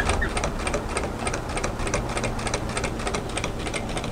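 A sewing machine runs steadily, stitching contrast binding onto slippery polyester fabric for a camisole top, its needle clattering in a fast, even rhythm throughout at close range with no talk.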